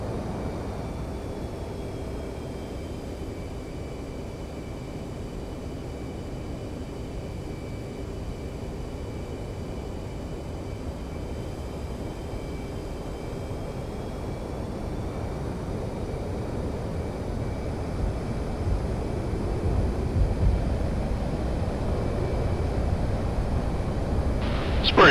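Jet aircraft engine in DCS World climbing after takeoff, a steady low roar with a thin high whine holding throughout, growing slightly louder toward the end.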